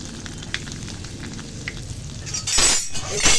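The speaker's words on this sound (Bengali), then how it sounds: "তেলের উপর কালো জিরে দিয়ে দিলাম এবার হিং দিয়ে দিলাম" Nigella seeds and asafoetida sizzle in hot oil with a steady crackling hiss, rising to louder spattering toward the end, with light clinks from a utensil.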